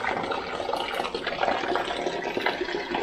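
Water flows steadily down through a Ganesh festival decoration in a Konkan home, running from the top and returning through a pipe, a continuous close trickling and splashing that is fairly loud and alone.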